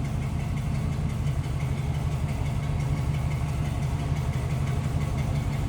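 A 1956 Ford Customline four-door sedan idles steadily from behind the car, its low engine rumble continuous and close for several seconds with no talking.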